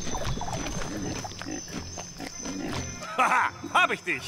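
Cartoonish pig grunts and squeals from the game LEGO Jurassic World amid background music and shuffling noises, with a few louder snorts near the end.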